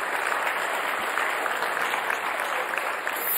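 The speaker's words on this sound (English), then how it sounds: "I think we should give Sarah a clap for that wonderful explanation" Steady applause from a concert audience at a relaxed Friday lunchtime orchestral concert, dense and even clapping sustained throughout at a fairly close, full level.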